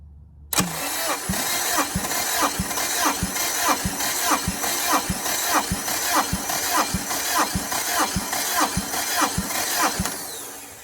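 A Honda K24 engine cranks steadily on the starter during a compression test, giving a loud, rhythmic chug of evenly spaced compression pulses for about ten seconds with no talking.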